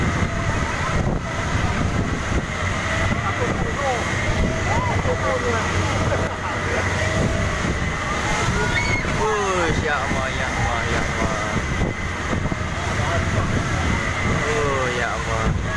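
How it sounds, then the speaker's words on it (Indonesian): Big sea waves around a boat near Pulau Perhentian in rough-season conditions, a constant loud roar of water and engine-like rumble filling the whole stretch, with people talking and exclaiming over it. "Besar betul ombak dia."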